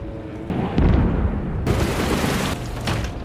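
Explosion booms from a plane crash erupt in stormy weather, with several heavy, loud bursts landing in quick succession over a rumbling, noisy background.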